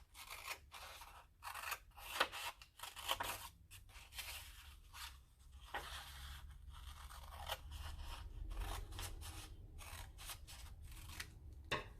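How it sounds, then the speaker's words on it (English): Scissors cut green paper for a paper craft, giving quiet repeated crisp snips and crunching slices close by, spaced irregularly over soft background noise. "And I'm cutting behind the line."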